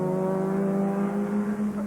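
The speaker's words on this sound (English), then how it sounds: "listen to the engine on stage 8. That missed gear change was a symptom of a problem" A Formula Rally R1 rally car engine from a 2001 rally with a mechanical problem holds a loud, steady, droning note for a couple of seconds, with slight wavering toward the end.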